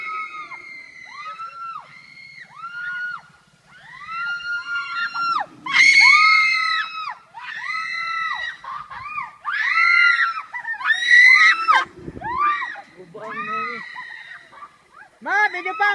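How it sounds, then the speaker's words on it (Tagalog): People scream and shriek repeatedly while riding a zipline drop at a Philippine nature park, loud and close in bursts, with rushing wind beneath and others talking and calling out between the screams. "Sigaw! Sigaw!"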